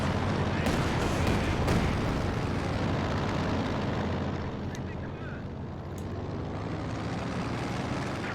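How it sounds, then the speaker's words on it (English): A Katyusha rocket artillery barrage in a competitive video game match lands as a dense, heavy wall of rumbling blasts that is loud at first and then eases into a lower roar. "Oh, and the Katyusha follow-up as well. Oh, huge barrage."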